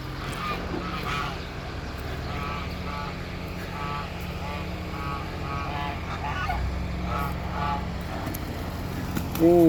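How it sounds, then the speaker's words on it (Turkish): Geese honk repeatedly amid a busy outdoor background at a goose farm, with people talking nearby and a low steady rumble underneath. "Kazlar burada."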